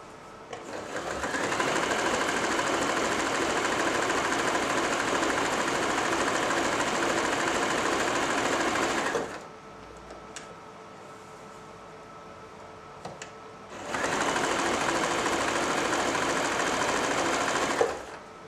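Janome J3-24 sewing machine sewing a stretch stitch, with a loud, steady whirring run of about eight seconds, a quiet pause with faint clicks, then a second run of similar length, close up and without talk.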